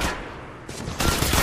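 Rapid automatic gunfire from the mobile battle-royale game Apex Legends Mobile, a dense burst of loud close shots that grows heavier toward the end of the short stretch.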